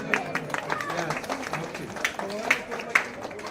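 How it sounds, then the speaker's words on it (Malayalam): A group of people at an actress's photoshoot claps in loose, uneven bursts under ongoing talk and background bustle, a few sharper slaps standing out near and moderately loud. "എല്ലാവരും ഒന്ന് ക്ലാപ്പ് ചെയ്ത്"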